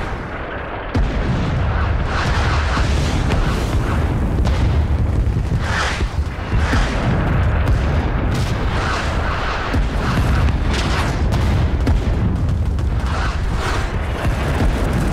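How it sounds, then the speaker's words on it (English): Artillery barrage in the Vietnam War shooter Rising Storm 2: Vietnam: dense, continuous booms and blasts roll on without a break for about fourteen seconds, loud and close, with overlapping gunfire and no clear speech. "Alright, arty's dropping."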